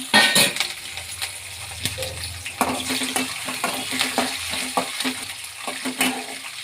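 Green chilies frying in oil in a small tempering pan for millet upma: a close steady sizzle under repeated metal spoon clinks and scraping as they are stirred.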